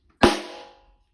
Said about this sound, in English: Another sound you can make is by hitting the rim and the drum head at exactly the same time.